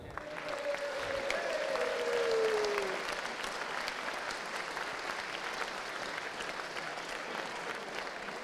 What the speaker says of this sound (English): Round of applause for Draft Day.